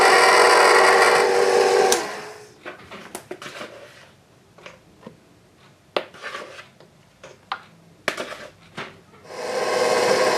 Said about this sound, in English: Your mixer should have a stir option right here.